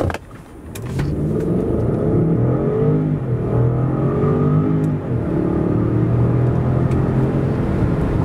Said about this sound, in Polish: jednostka napędowa z testówki tak przyspieszała od 0 do setki